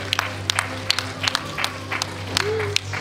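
At a Year 6 school awards event, a few people clap in sparse, separate bursts, nearby and moderately loud, over a steady background hum and faint voices.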